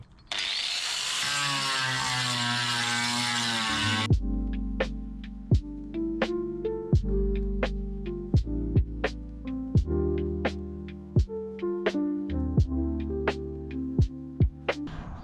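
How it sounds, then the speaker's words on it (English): Grinder fitted with a rubber grinding disc shaping a plywood hydrofoil: a steady, loud whine for about four seconds, then a busy stretch of sharp, repeated percussive hits over a lower droning tone. "This thing hauls through the wood, really great for grinding wood. It's actually a rubber grinding disc."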